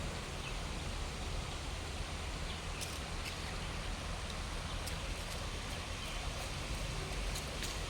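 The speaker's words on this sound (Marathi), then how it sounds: "धबधब्यासारखो आवाज येता पाण्याचो" Steady rushing water pours continuously over a river weir like a small waterfall, a dense even roar with occasional faint clicks on top.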